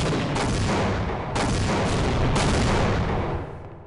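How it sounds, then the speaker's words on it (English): Loud, continuous barrage of booming video game explosions and gunfire-like blasts in Half-Life: Opposing Force, dense and overlapping throughout, with several sharper hits standing out. "And quite a few explosions."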